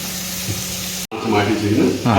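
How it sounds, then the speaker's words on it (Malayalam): Garlic sautéing in olive oil with salt and pepper added, a steady close sizzle and hiss from the pan, with a person talking over it in the second half. "നല്ല സ്മെല്ല് ആ ഒലിവ് ഓയിലിൽ ഗാർലിക് ഇങ്ങനെ സോട്ട് ആവുന്നല്ലേ"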